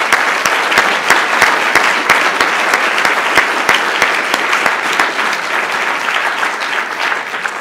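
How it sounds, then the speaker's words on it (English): Loud, full audience applause at an official closing ceremony rolls on steadily for several seconds, with a few sharp, close individual claps standing out from the crowd. "I would ask you to give an applause here."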